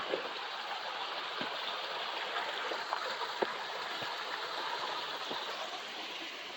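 Indian Creek at Hanging Rock State Park flows as a continuous, even rush of water, with occasional faint ticks and splashes inside the steady wash and no voices.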